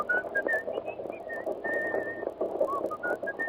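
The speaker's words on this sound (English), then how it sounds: "Go on, whistle it." Someone whistles a wavering melody of short and held notes over a murmuring background of voices and room noise.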